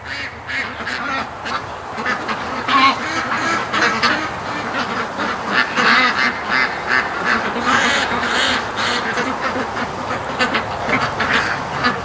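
Ducks raised outdoors quack steadily and repeatedly, several birds overlapping in a busy, continuous chatter at close range, with a faint human voice now and then.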